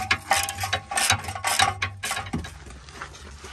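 A battery-powered ratchet spinning off a bolt while a Ford BA/BF XR6 Barra engine is removed, giving loud close clicking, whirring bursts with short gaps between them and no talk.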